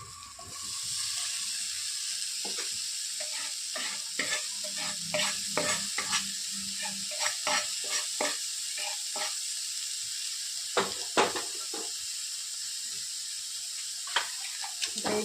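Paneer with whole masoor lentils and homemade onion-garlic masala frying in a pan, a steady sizzle under repeated scraping clicks of a spoon stirring, close and fairly loud with no talking.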